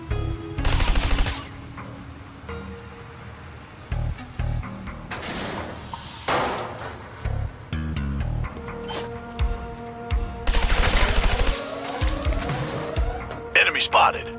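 Video-game gunfire in Trials of the Blood Dragon: loud bursts of automatic shots in several clusters, with engine noise and tire screeches between them and a voice talking over parts of the action.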